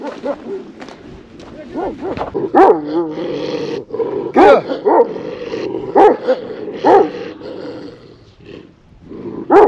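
Sheepdogs on a mountain bark in sharp, irregular bursts at moderate distance, some yelps mixed in, with a few voices speaking between barks.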